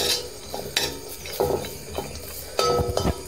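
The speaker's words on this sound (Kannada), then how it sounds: "ಚೆಂದ ಫ್ರೈ ಆಗಬೇಕು." Cashews fry in a pan for carrot burfi, with a soft sizzle under repeated stirring scrapes and light metallic clinks against the pan, at close range and fairly quiet.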